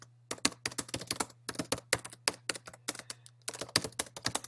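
Typing on a computer keyboard, quick irregular bursts of close, crisp key clicks with short pauses between words, over a steady low electrical hum.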